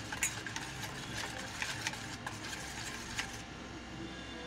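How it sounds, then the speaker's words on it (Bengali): Potato pakora mixture with salt being stirred and mixed, giving soft, irregular clicks and scrapes that stay quiet and close with no voices. "এবারে আমি মিশ্রণটাকে ভালো করে মিশিয়ে নেব"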